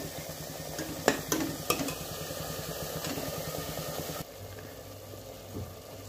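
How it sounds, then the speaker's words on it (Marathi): Masala for chicken masala sautéing in a pan, a steady close sizzle with sharp spoon scrapes and clatters early on, then the frying thins to a quieter hiss with a low hum underneath. "याला आपल्याला परतून घ्यायचं आहे मसाल्याला या।"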